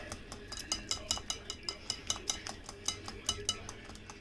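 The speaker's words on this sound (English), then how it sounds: "Mix the batter real good." A whisk or spoon beats toad-in-the-hole batter of flour, egg, milk, salt and pepper in a bowl, giving a steady fast rhythm of light clinking strokes, close and moderately quiet, with no talking.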